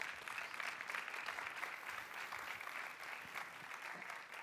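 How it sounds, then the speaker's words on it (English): A conference audience at the Atlassian Summit gives a speaker a warm round of applause, steady, even clapping from a large room, heard at a distance and fairly quiet. "We can give Mark a warm round of applause."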